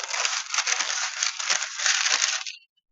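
A sheet of wax paper crinkled by hand for a homemade light diffuser, a dense, continuous crackling rustle lasting a few seconds up close before stopping abruptly, with no voices.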